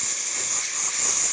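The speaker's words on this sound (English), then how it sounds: "steamer is working perfectly fine." A DeLonghi espresso machine's steam wand, tested after a full service, lets out a steady, loud, continuous hiss of steam with no talk over it.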